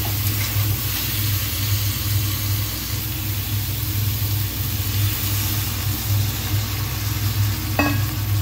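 Tomato masala is sautéed in a pan and gives a steady, even sizzle with a constant low hum underneath. A single brief click stands out near the end.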